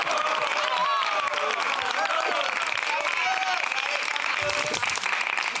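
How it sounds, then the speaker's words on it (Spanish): Dense, continuous audience applause from a comedy show crowd, steady and loud throughout with overlapping voices and some cheering mixed in. "Aplausos."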